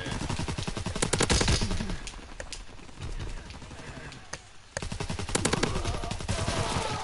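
Shotgun and other gunfire in a WWII video game, clusters of sharp loud shots at the start and near the end with quieter scattered firing between, a voice talking over it.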